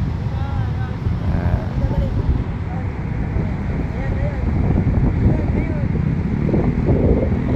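Steady wind at a bay beach along the Manila Baywalk, rushing continuously against the microphone, with people talking faintly in the background.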